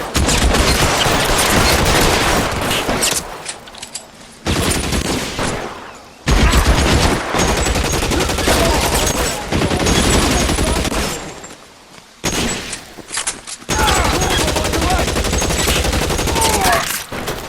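Heavy gunfire in L.A. Noire, sustained loud volleys of shots in long bursts broken by a few brief pauses, close and dense, with no talk.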